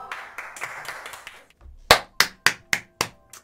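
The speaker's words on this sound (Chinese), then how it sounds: "加油鼓掌" A few people clapping during a reaction to a Boystory episode, starting with a blur of soft claps that gives way to five or six loud, sharp, evenly spaced claps close by.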